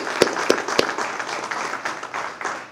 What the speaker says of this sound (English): If we could give a round of applause.